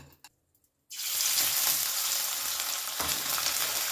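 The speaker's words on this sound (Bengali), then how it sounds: "এবারে আমি তেলের মধ্যে মাছগুলো দিয়ে দেব" Small chela fish drop into hot oil after a brief quiet moment, setting off a sudden, loud, sustained sizzling and frying hiss close by, with a faint stirring knock near the end.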